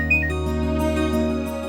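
A mobile phone rings with an incoming call during a wedding gathering as the groom's procession arrives, a steady electronic melodic ringtone with sustained tones, moderately loud and alone with no talking over it.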